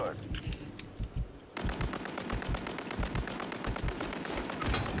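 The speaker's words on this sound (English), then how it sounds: "Oh, I'm getting sniped." Call of Duty gunfire rattles in rapid repeated bursts, steady and close, with a player's voice talking over the shooting.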